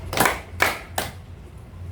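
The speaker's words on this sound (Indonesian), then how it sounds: "Tepuk satu kali, tepuk dua kali, tepuk satu dua kali" Hands clap three times in a quick rhythm during an ice-breaking group game: two claps close together, then a third a little later, each sharp and fairly near, with no talking over them.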